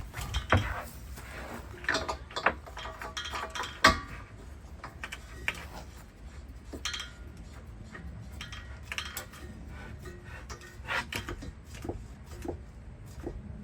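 An LPG gas bottle is handled and hooked into place inside a storage locker, producing scattered metallic clinks, knocks and taps at close range in an otherwise quiet space.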